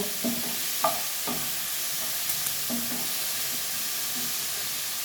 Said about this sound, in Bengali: হলুদ দিয়ে ভালো করে নেড়ে নেব।